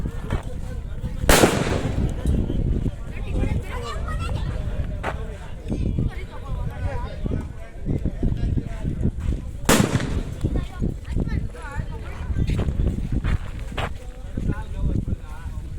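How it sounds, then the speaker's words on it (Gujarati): Firecrackers set off by children at an outdoor family gathering, two sharp loud bangs with smaller pops between, under continuous crowd chatter and talk. "છોકરાઓ અહીંયા ફટાકડા ફોડે છે."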